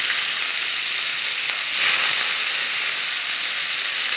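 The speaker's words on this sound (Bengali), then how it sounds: "চিংড়ি মাছটা আমি ভেজে নেব" Shrimp frying in hot oil seasoned with salt and turmeric, a loud, steady bright sizzle that continues without break, swelling briefly midway, with no voices.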